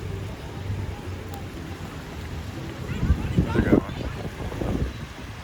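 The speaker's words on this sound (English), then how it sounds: "Man, it is way windier than earlier." Strong gusts roar and buffet the microphone in a broad, rumbling rush outdoors at an amusement park, swelling louder toward the middle and staying steady throughout, with no clear voices.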